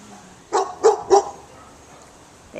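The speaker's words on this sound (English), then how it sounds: "They now have an attack dog." An attack dog gives three sharp, close barks in quick succession, then falls quiet.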